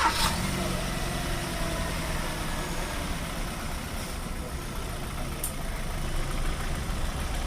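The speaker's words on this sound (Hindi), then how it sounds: "ये है इंजन का साउंड, देख सकते हैं।" A Hyundai Verna petrol/CNG sedan engine idles steadily after a major service, a low continuous hum with a brief sharp start-up at the beginning, heard close with faint background noise.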